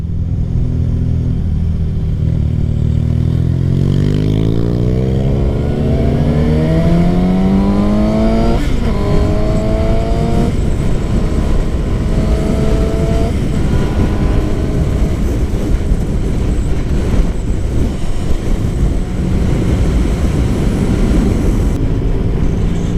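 A Suzuki GSX-S750 motorcycle accelerates on the road, its engine climbing in pitch through several gear changes under steady wind rush, loud and close throughout.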